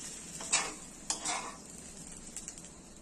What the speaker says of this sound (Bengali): ভালো করে নাড়াচাড়া করে নেব। মশলার সঙ্গে চালটা যেন ভালোভাবে কোট করে যায়।